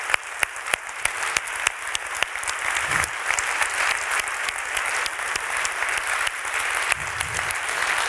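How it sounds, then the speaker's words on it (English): Audience applause at a graduation ceremony, sustained clapping from a large crowd with sharp individual claps standing out near the front, continuing steadily for about eight seconds, with faint voices underneath. "that deserves a huge round of applause to all 3 segments"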